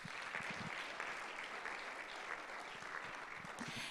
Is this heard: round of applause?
yes